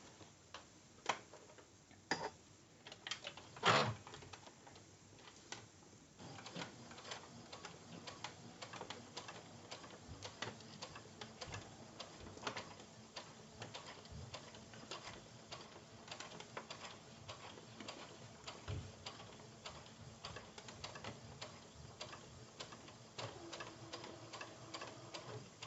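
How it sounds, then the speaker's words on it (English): Sewing machine stitching a seam for a zipper pouch at 2.5 stitch length, with back stitching at the start and end, ticking in quick rapid bursts, close but quiet. "when I sew I am going to back stitch at the beginning and at the end"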